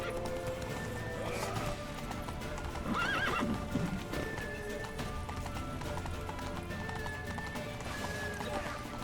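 Rapid hoofbeats clip-clop over a busy soundscape in The Witcher 3: Wild Hunt, with a horse whinnying loudly partway through and voices shouting underneath.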